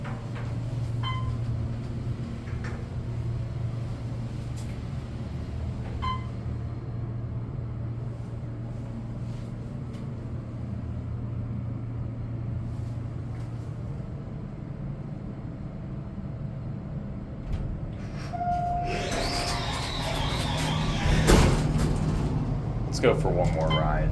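Otis Series M2 hydraulic elevator at a Motel 6 in Bradenton, Florida, riding with a steady low hum and rumble throughout, a brief chime, then a rattling door movement near the end.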